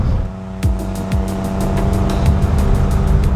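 A turbocharged BMW 333i drives with a loud, steady engine drone that swells slightly as it pulls along, with occasional squeals.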